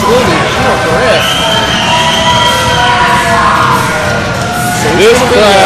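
A wrestling crowd jeers and yells steadily at the tag team of Jake Jacobs and Blake Hall, a loud, continuous wash of voices with commentary running underneath.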